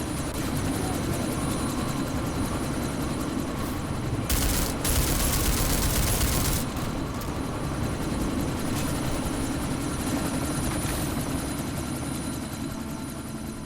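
Loud, steady helicopter rotor drone from the Deus Ex video game fills the whole stretch, with a brief burst of heavier gunfire or blast noise in the middle before the chopper roar continues.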